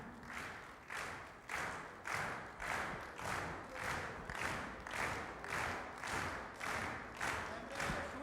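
Hands clap in a large audience at a Hindi talk show by Dr. Rahul Awasthi, coming in steady pulsing waves of applause about once per second, dense and continuous, with no voices standing out.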